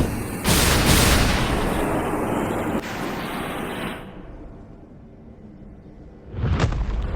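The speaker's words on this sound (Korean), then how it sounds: "방금 부딪힌 게 뭐길래 이런 폭발이 일어난 거죠?" A large explosion in a video game story scene hits as a loud roaring blast, then rumbles and fades over several seconds before a second, shorter burst near the end, with no talk.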